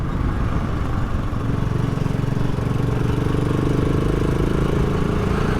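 A BSA Goldstar 650 motorcycle runs with a loud, steady, throbbing engine and exhaust note that pulses evenly and stays close throughout.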